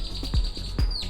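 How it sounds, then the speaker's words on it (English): Birds in Southern Mexico give a few short, close chirps, two sharp calls standing out over a steady high insect-like hum with no talking. "you hear them birds"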